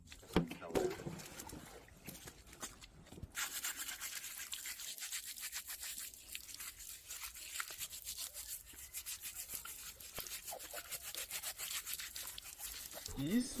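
Water is poured over a pig and its skin is rubbed and scrubbed in a forest setting, a steady close brushing and sloshing with people talking nearby.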